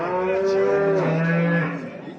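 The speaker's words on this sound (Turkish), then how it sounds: "İki tane inek mi?" A cow gives a loud, close moo lasting about two seconds at a cattle market in Sungurlu, Çorum, with faint background voices.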